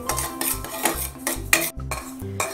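A utensil scrapes and clinks steadily against a metal pan while roasting semolina over medium heat, rhythmic stirring strokes, close and fairly loud with no talking.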